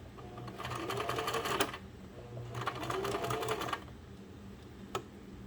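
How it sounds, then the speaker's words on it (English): A sewing machine back stitching a burp cloth runs in two close, rapid bursts of stitching separated by a short pause, with a faint click at the end. "don't forget to back stitch."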